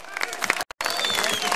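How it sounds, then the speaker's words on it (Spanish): A crowd at a school year opening event in Ayacucho breaks into brief applause, a dense patter of many hands close by, with voices mixed in and a sudden short gap partway through. "¡Palmas, por favor!"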